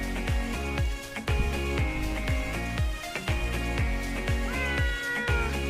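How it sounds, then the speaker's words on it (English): A farm cat meows over and over outdoors in winter, giving drawn-out, wavering cries one after another in a steady rhythm for several seconds, clear and fairly prominent though it sits at some distance, with no talking. "Sounds like we're going to be joined by the farm cat here."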